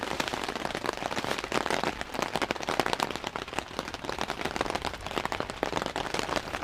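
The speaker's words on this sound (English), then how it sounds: "This was wind-driven rain, and a lot of it, a tremendous lot of it." Heavy wind-driven rain pounds a tent in a derecho, a dense, relentless patter of drops that stays loud and continuous throughout.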